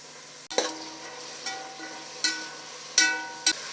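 Chopped potato, cabbage, beans and carrot for vegetable pulao sizzle in a hot pan, a steady frying hiss broken by several sharp bursts as pieces drop in and get stirred, close up with no talking.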